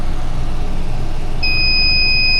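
A battery tester checking a failing lead-acid car battery during cranking sounds its low-voltage alarm, a loud, steady high-pitched electronic beep that starts abruptly and holds over constant background noise.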